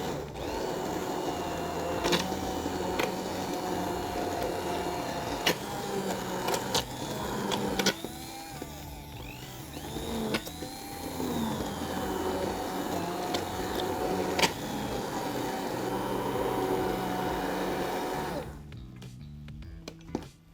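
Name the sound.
stick blender blending tomato sauce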